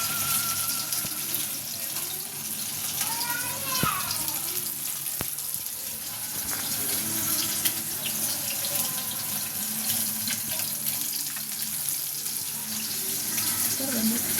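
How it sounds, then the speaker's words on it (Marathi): Mandeli fish coated in besan frying in hot oil: a steady, close sizzle and crackle runs throughout, with occasional clinks of utensils and a faint voice now and then. "तसं फ्राय होत आहे"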